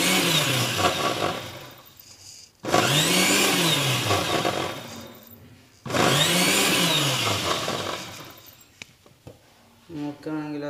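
A blender whips homemade mayonnaise in loud whirring bursts of a couple of seconds each, pitch rising and falling, separated by short pauses, with a voice talking briefly at the end.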